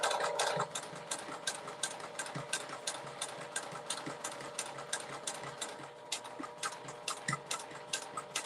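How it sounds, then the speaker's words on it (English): A sewing machine stitches a notebook holder, its needle ticking in a rapid, steady mechanical rhythm close by, with a short pause near the start and no talking. "I'm gonna go over right up over these stitches that I already made"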